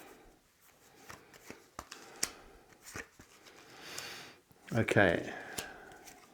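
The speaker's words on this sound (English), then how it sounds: "These have all been shuffled once, but I'll do them again. Really old tarot cards." Really old tarot cards are shuffled again by hand, with soft scattered card slaps and rustles, and a louder flurry of riffling near the end, while a person briefly speaks.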